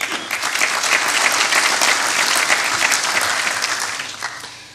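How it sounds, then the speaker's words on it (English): A conference audience at the Hellenic Innovation Forum breaks into sustained, dense applause, many hands clapping together loudly and evenly before tapering off near the end. "the first applause which is deserved in this room is a welcome to all of you"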